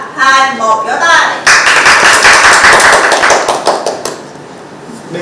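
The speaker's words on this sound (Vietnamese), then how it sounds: "vỗ tay" Dense round of hand clapping from a small group of people, starting sharply after a spoken countdown and continuing as rapid, loud claps that gradually thin out and fade, with voices and chatter mixed underneath.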